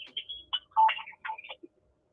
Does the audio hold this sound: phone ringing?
yes